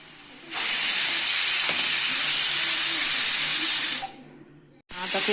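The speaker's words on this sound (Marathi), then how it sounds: "आता शिट्ट्या पण चांगल्या होत आहेत आपल्या." A pressure cooker of kadhi-khichdi on a wood-fired stove lets out a loud, sustained whistle-hiss of venting steam lasting several seconds, then dies away to a quieter hiss before a fresh burst starts.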